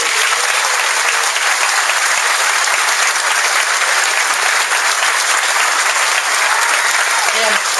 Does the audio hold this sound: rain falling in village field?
no